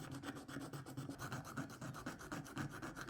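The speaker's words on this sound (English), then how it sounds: "I started with a large file to do most of the shaping and followed that up with a detail file to remove the deep scratches" A hand file scrapes a plastic fishing lure body in steady, rhythmic rasping strokes, close but quiet, about six strokes per second with no voices.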